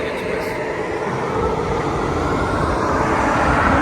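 A Taj Express passenger train hauled by a Tughlakabad WAP7 electric locomotive gives a steady, loud rolling rumble with broadband wheel and track noise that holds evenly throughout, with no voices heard.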